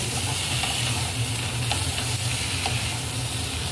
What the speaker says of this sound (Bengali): এবার টমেটো কাটাগুলো দিয়ে দেওয়া হলো।